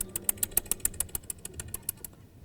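A voice imitates a super fast whirring clock during a commencement address: a rapid, steady train of sharp mouth-made ticks, about eight per second, fairly close, fading slightly near the end.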